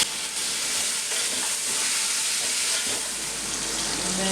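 Tomatoes fry in a hot pan with a loud, continuous sizzle and hiss, plus occasional stirring, close and steady throughout.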